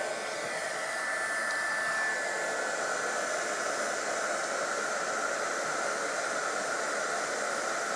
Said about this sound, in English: when you're doing your heat tool, using a heat tool